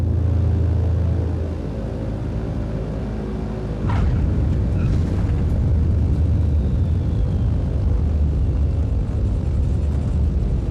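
Airplane touching down in Microsoft Flight Simulator 2020: a steady, loud engine drone and rumble with a brief sharp change near the middle as the wheels meet the runway, continuing as a dense roar afterward.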